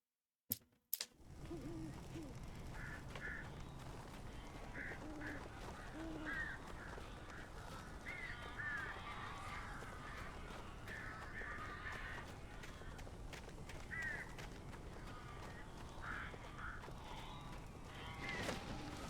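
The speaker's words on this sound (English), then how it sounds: "These birds are weird." Crows caw repeatedly in a dark video game scene, short harsh calls scattered over a continuous low ambient bed after a few sharp knocks at the start, with no talking.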